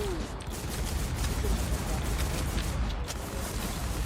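Rapid gunfire from a shooting video game crackles steadily through the whole stretch as a dense, continuous barrage, loud and close, with no distinct pauses between bursts.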